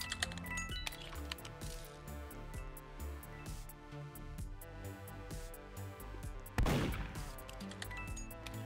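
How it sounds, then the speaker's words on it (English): Repeated gunshots in the Roblox game Murder Mystery 2 pop over a busy stretch of game music and effects, with one sharper, louder blast near the end. "It's not shooting, is it? Yeah, it is shooting. I hear it."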